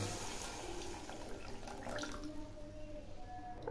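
Water pours into a pan of mustard and turmeric masala for a parshe fish curry, a steady close splashing rush that settles slightly toward the end, with no talking over it.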